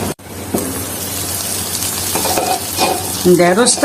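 Okra hits a pan already frying green chili, onion and turmeric, giving a steady close sizzle with stirring scrapes throughout, rising slightly near the end.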